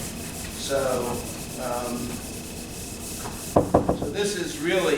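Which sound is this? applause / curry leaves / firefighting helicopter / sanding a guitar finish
sanding a guitar finish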